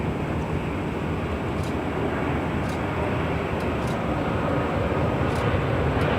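An airplane takes off at LAX as a steady, broad jet roar, loud and constant throughout, with a few faint high clicks over the rumble.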